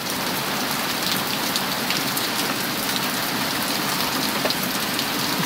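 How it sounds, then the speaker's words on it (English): Loud, dense pattering of pea-sized hailstones hitting hard surfaces during a storm, continuous and close with no pauses. "It's pea-sized hail from the look of it."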